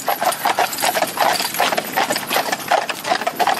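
A team of horses being hitched and worked together for the first time, hooves clip-clopping in a steady, busy rhythm close by, loud and continuous with no talk over them.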